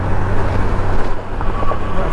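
A car passes close by a rider on a 2018+ Honda Goldwing towing a trailer on the road, its broad traffic roar mixing with steady wind and engine rumble and swelling briefly, with no talk.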